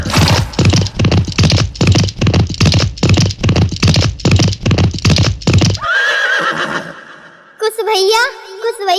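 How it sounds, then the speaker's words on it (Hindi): Horse whinnies and hoof clatter in a Karila folk devotional performance, a steady rhythmic pounding for about six seconds before giving way to a brief whinny-like cry and strained high calls, all loud and close. "देखो कितना अच्छा घोड़ा है।"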